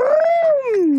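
A dog lets out a single drawn-out whining howl that rises slightly, then slides downward over about a second, close and loud and heard alone.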